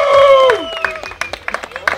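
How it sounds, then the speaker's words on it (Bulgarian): Applause and cheering for the captain of Vagabonds rises briefly, with scattered claps and crowd noise under a loud whistle-like tone at the start. "Това е хубаво, аплодисменти стават все по-силни за мен."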